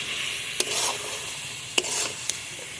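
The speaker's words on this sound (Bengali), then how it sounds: "এখন সব কিছু মাংসের সঙ্গে ভালোভাবে কষিয়ে নেব।" Duck meat being stir-fried with ground spices and salt in a pan, a steady low sizzle broken by a few sharp scraping stirs, with no one talking.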